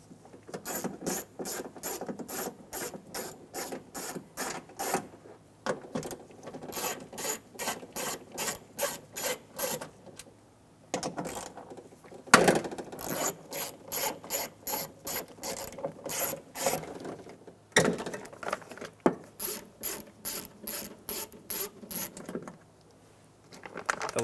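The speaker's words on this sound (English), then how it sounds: "We're going to remove 6 bolts off the regulator assembly to remove it." Hand ratchet clicking in rapid repeated bursts while loosening the window regulator bolts inside the door of a 2014-2019 Toyota Highlander, close and crisp with brief pauses between bolts.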